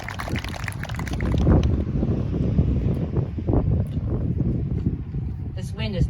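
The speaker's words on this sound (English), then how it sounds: "This wind is not going to get the best of us." Strong wind buffets the microphone at an outdoor high school CNA pinning ceremony in Brunswick, a steady rushing roar that covers the scene throughout, with voices faintly under it.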